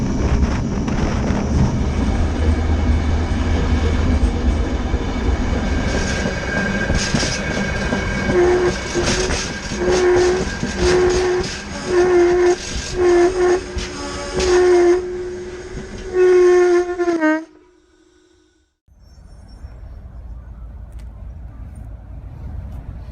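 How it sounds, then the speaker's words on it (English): Uncoupled railroad cars roll during brake tests, with a loud rumbling roll, squealing brake tones and clattering impacts that build and then cut off abruptly into near silence. "they're doing brake tests to figure out how long it really takes for uncoupled cars to stop"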